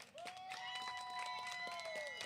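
Audience clapping, screaming and yelling to vote for a contestant at a live storytelling show, with a sustained high shriek held above steady, dense applause for about two seconds.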